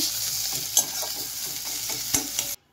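Browned onions fry with garlic paste in a pan for a Bengali prawn malai curry, a close, steady sizzle broken by a few scraping stirs of the spoon before it stops suddenly.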